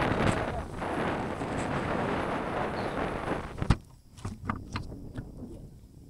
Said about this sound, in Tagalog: Matatangay ako ng hangin.